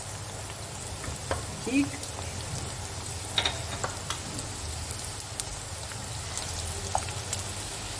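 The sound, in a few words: okra frying in hot ghee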